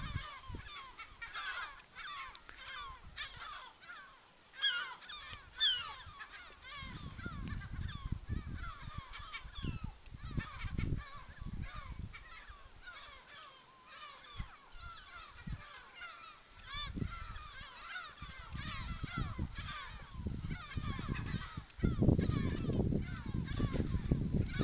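Nesting birds in Iceland keep up loud, repeated honking calls near their nests. The calls come in overlapping bursts with wind or handling noise mixed in, and someone speaks intermittently.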